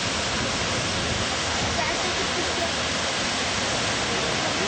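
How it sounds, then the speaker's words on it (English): A waterfall on the Madison River in Yellowstone roars as a dense, steady wash of rushing water, loud and unbroken throughout. "Love the waterfall here."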